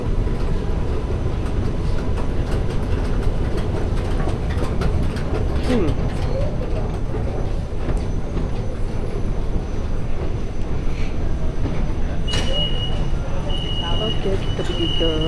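Busy MRT station platform in Kuala Lumpur at rush hour, a steady dense rumble of train machinery and crowd noise throughout, with brief high mechanical squeals and a sustained whine near the end, people talking underneath.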